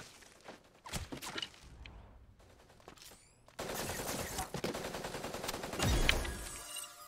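Gunfire from the online mecha shooter game Super Mecha Champions: scattered single shots, then dense rapid bursts like machine-gun fire, loud and close, with a few whooshing effects and no talking.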